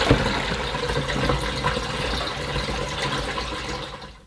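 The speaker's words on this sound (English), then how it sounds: "we can now open the drain valve and empty out the water" Water drains steadily out of a Tefal Washboy portable washing machine through its open drain valve, a continuous rushing, gurgling flow that holds level throughout and then cuts off at the end.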